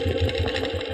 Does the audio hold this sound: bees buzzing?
no